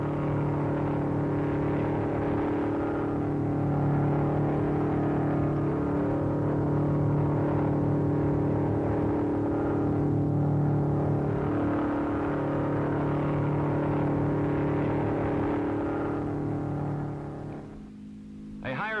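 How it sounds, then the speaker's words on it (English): An MG record car runs steadily on the Bonneville Salt Flats, its engine a sustained, even drone that holds for most of the clip before easing off near the end. "The car is running like a fine watch"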